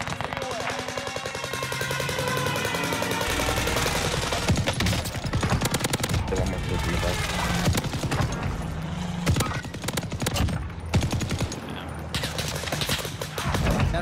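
A Bren LMG fires long, rapid bursts in a multiplayer shooter game, loud and close with a dense stream of rapid shots, while players talk over the gunfire.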